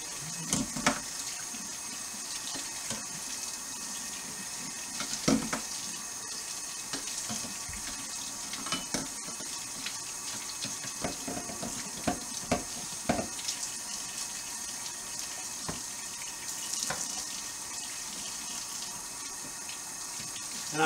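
Running water rinsing a Sanke homebrew keg, a steady faucet-like splash and hiss with scattered knocks and clanks of the keg throughout, moderately close.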